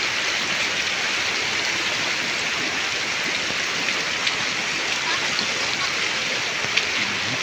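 Heavy rain pours steadily and loudly on an outdoor neighborhood, a dense continuous roar of water with rushing runoff and floodwater throughout, with a faint voice briefly underneath.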